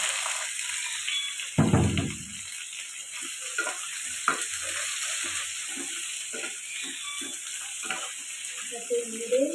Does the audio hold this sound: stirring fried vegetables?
yes